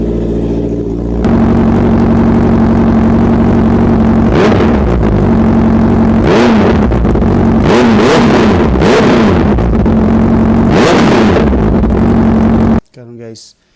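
Honda CB650R motorcycle exhaust, loud and close, idling steadily then blipped through repeated sharp revs in bursts, settling back to idle between them before cutting off near the end.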